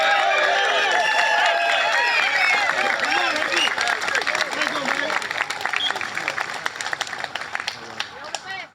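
Outdoor crowd at an open-mic rally in Parliament Square applauding and cheering a speaker, loud sustained clapping with shouts that gradually thins out toward the end.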